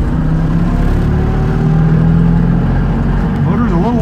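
A classic Fiat 500 microcar engine drones steadily and loudly during a drive, a continuous low mechanical hum with shifting pitch toward the end.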